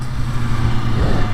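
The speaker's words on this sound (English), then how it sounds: "Exhaust, I think this thing sounds like a moped." A 2023 BMW S1000RR M motorcycle on its stock exhaust, a steady low engine drone that holds close and loud without rising or falling.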